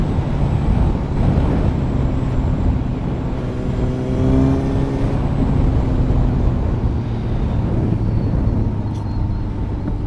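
A Kawasaki Z900 superbike cruises along a road, a steady loud engine drone and wind roar with a brief rising pitch sweep mid-ride.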